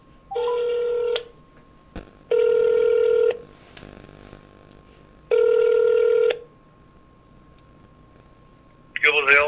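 An outgoing telephone call rings three times, each a steady ringback tone lasting about a second with a gap between, under a faint steady hum, before a voice briefly answers at the end.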